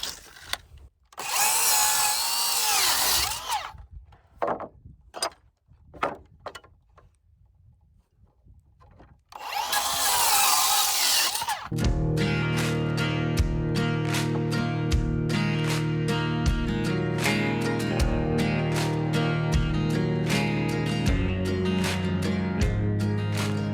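A cordless power drill with a star bit drives 3-inch screws into wooden footing forms for a house foundation. Two long, loud whirring runs come first, then a steady, close mechanical whine with rapid repeating ticks, and no voices.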